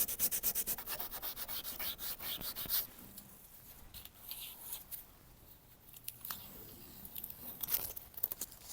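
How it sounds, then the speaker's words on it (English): A Scotch-Brite pad scrubs paint off car chrome in steady, rapid back-and-forth strokes. The abrasive rubbing is loud at first, then softer and intermittent, with a few sharper scrapes near the end. "I'm going to try to gently remove the paint on the chrome with the Scotch-Brite"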